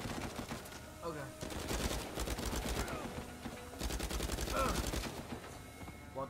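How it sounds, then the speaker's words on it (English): Rapid gunfire bursts and sustained volleys from the Uncharted 4 video game, loud and dense, with game effects and music layered throughout. "Well, the guns sound way better."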